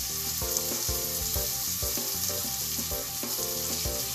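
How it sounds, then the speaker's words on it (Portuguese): Onions are added to sautéed garlic in a pan, giving a constant loud frying sizzle with soft crackling, while rhythmic background music plays underneath. "já está refogado o alho, vamos colocar as cebolas"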